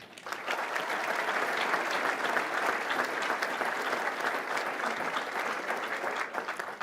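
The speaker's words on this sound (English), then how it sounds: "if you would give one last round of applause to our graduate students from 2021" Steady, loud applause from the crowd at an engineering graduates' Order of the Engineer ceremony, dense clapping held evenly throughout with no voices over it.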